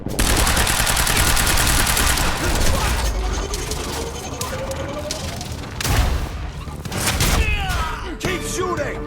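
Gunfire in the video game Quantum Break: rapid, dense automatic bursts with heavy booming impacts, loud and close, then sporadic shots and thuds, with voices talking in between.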